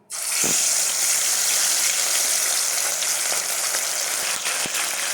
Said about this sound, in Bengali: তারপরে তেল হয়ে গেছে, এবার মাছগুলো ছেড়ে দেবো, পামপ্লেন মাছগুলো।